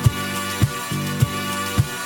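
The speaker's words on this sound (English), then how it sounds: "So that's going to stretch out the sample" A sample time-stretched to 123 BPM loops as a dense electronic music phrase, with four steady low thumps repeating about every 0.6 seconds under a bright sustained texture.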